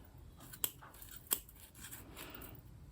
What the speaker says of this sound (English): I'm going to start to cut into here